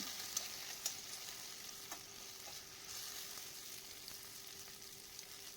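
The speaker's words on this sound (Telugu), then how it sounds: "ఇప్పుడు మూత పెట్టి ఒక రెండు నిమిషాలు మగ్గించుకుంటే టమాటా ముక్కలు సాఫ్ట్గా అవుతాయి" Cauliflower and tomato pieces fry in a covered pan, giving a steady, even sizzle throughout with a few faint clinks near the start; no one speaks.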